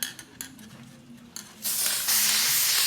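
An aerosol can of clear sealer sprays in a steady, loud hiss for over a second after a few soft clicks and handling noises.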